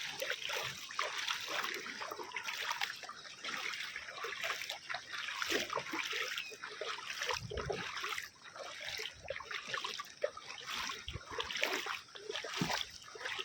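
Water from a small spring-fed stream trickles and splashes steadily, a continuous bright rushing flow with small gurgles, fairly close and without a break.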